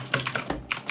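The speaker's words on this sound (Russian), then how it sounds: "Она сравнительно тихая для механической клавиатуры." Quick keystrokes on a Keychron K3 mini wireless mechanical keyboard make a short run of crisp, close clicks, six or seven taps in about a second, with no talking.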